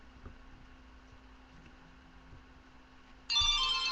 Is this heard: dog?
no